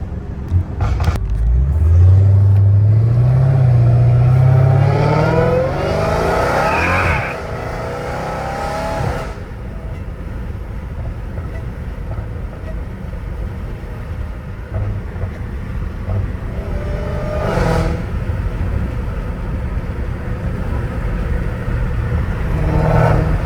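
A Dodge Challenger Hellcat Redeye engine revs hard and loud up close, climbing in pitch over several seconds before settling into a deep, rumbling idle with brief throttle blips.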